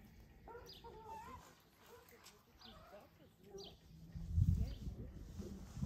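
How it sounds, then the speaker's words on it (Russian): Hens clucking in a farmyard where cats are being fed: scattered short clucks and calls, fairly faint and intermittent, followed near the end by a low thump and rustle close by. "Ох, эти курочки."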